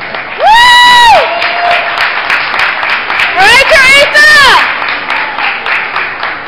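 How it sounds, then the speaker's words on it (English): Loud cheering and clapping from a beauty pageant crowd for young contestants, with shrill whoops and screams rising over the applause in two strong bursts. "give these girls a round of applause"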